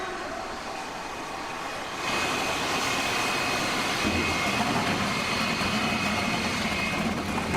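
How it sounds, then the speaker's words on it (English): A deep engine roar suddenly swells up after a quiet moment and holds loud and steady as NASCAR stock car engines start together at Bristol Motor Speedway. "Drivers, start your engines!"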